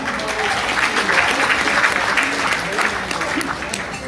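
An audience at a large sales seminar breaks into applause, a thick, loud burst of many hands clapping together that holds steady for a few seconds with crowd noise mixed in.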